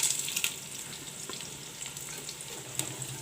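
Bay leaves, cinnamon, cardamom, cloves, black pepper and onions frying in a pan, giving a steady soft sizzle with faint crackles and a few light pops throughout, fairly quiet and without any talk.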